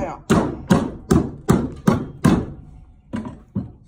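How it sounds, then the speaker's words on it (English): A claw hammer knocks small wood chips out of a log farm table or bench, giving eight sharp, evenly spaced thuds close by, each blow fading quickly. "You just gonna knock those little chips out."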